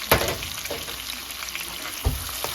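Scallion, onion and pepper seasonings frying in oil, a steady close sizzle with two sharper stirring scrapes at the start and near the end, no voices.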